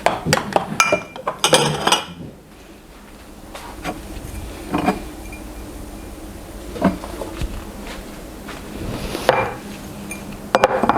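Glasses and dishes clinking as upper kitchen cabinets are emptied during a deep clean, with scattered sharp clinks and clatters, denser at the start, then sparse knocks and rattles, close and moderately loud.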